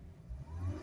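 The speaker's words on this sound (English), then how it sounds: "Just give it a few hard accelerations from down," A Jaguar XE 2.0 engine revs hard during an SCR cleaning procedure, a low rumbling surge that swells toward the end, fairly faint and with no voices.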